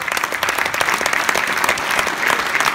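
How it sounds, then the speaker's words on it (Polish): Concert audience at an indoor stage gives a warm, steady round of applause, many hands clapping continuously with slight swells, close and fairly loud. "Wielkie brawa."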